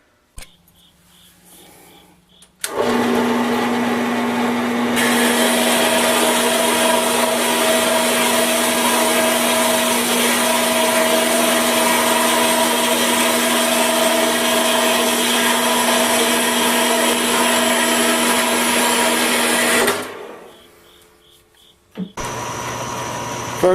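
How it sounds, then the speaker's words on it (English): Metal lathe running steadily as it faces off the ends of a steel tap wrench part in a home shop, a loud continuous machining whir with a steady tonal hum, starting abruptly and stopping near the end. "First thing I'm going to do is face off the ends and center drill them."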